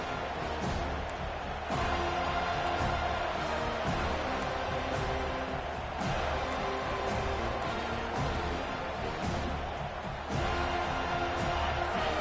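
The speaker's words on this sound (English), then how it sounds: "The roar of the crowd trying to fuel this defense to keep them pinned in their own end." A college football stadium crowd roars steadily and densely throughout, a broad continuous wash of noise with small surges, an announcer's voice faint beneath it.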